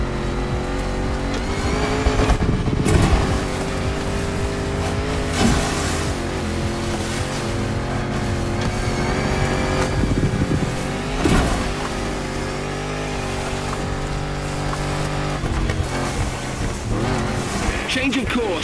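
Land Rover Defender with a 400-horsepower engine under a 70-year-old bonnet, driven in The Crew Motorfest: a steady loud engine drone throughout, with a voice speaking over it.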